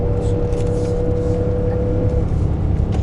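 A Nissan Titan Pro-4X engine labours at over 4,000 RPM in third gear while towing a trailer uphill on a mountain grade, giving a steady, loud droning hum heard from inside the cab.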